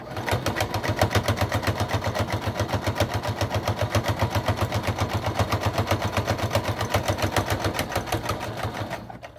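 A sewing machine zigzag-stitches and back-stitches purple fleece for a stretchy hat, with a rapid, steady mechanical rattle holding at an even rhythm for about nine seconds, close and loud with no voices.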